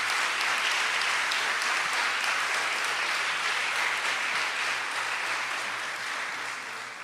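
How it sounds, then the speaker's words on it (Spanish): Audience applause marking an anniversary celebration, steady full clapping from a crowd that stays loud and even for several seconds before easing off slightly at the end, with a faint low hum beneath. "un aplauso para Carlos Fernando Chamorro y su equipo en este aniversario"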